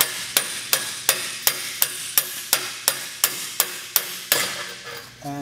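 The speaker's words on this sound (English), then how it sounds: "You can use a hammer, or a mallet," A hammer strikes a metal exhaust clamp on a VW MK4 during a downpipe install, in a steady rhythm of about a dozen sharp, evenly spaced clanks close by, with no talking.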